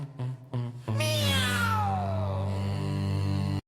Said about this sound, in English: damn cat always in there.